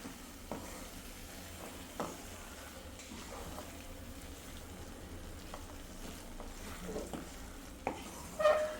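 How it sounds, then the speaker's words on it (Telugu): Tomato and egg curry frying in a pan with coriander leaves stirred in, a steady soft sizzle with faint occasional scrapes, quiet and even throughout, ending in a couple of louder clatters. "సో కొత్తిమీర వేసేస్తే ఆల్మోస్ట్ ఆల్ కర్రీ ఫ్రై అయిపోయినట్లే"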